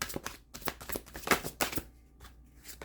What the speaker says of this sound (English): Do these one more shuffle.